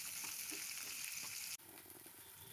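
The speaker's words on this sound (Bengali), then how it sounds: "এই তেলের মধ্যে একটা বড় সাইজের পেঁয়াজ লম্বা করে কেটে রাখা দিয়ে দিলাম। অল্প ভেজে নিচ্ছি।" Long-sliced onion, a large one, frying in oil after potatoes, giving a steady dense sizzle throughout, with a brief drop near the middle before the crackle resumes.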